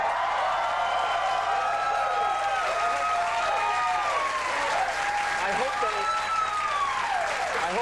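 A late-night TV studio audience claps in a dense, sustained wash of applause that holds steady from start to finish, with whistles and cheers rising over it.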